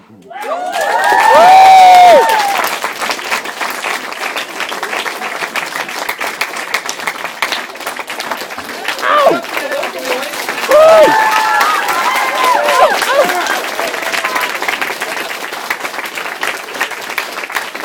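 A crowd at a rap battle bursts into loud applause and cheering, with whoops and shouts riding over the clapping, then a steady roar that swells again partway through.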